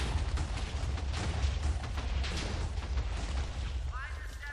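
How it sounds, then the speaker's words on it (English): Continuous rumbling blasts and booms from a HiveMC Minecraft minigame roll on without pause, a dense wash of explosive noise with no clear gaps. "So many explosions."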